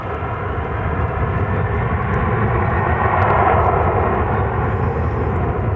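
Airliner arriving from Phoenix at DFW Airport, a loud sustained engine roar swelling slightly toward the middle as it passes, continuous with no talk.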